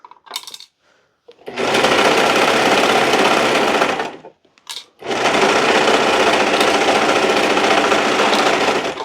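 A sewing machine runs in two long, steady bursts of stitching across orange fall-colored fabric during a clothing repair, loud and close with a short pause between runs and no talking.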